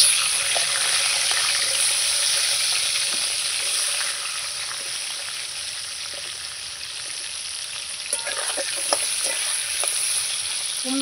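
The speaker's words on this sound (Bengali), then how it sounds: "কুমড়োগুলো ভেজে নেব" Pumpkin pieces frying in oil previously used for fish in a kadai, a loud, continuous bright sizzle holding steady throughout, with a few small clicks and pops near the end.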